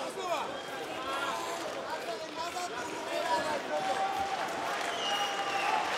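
A fight-night crowd at an OKTAGON event cheers and claps in a steady, distant roar of applause and excited voices, with a commentator talking over it.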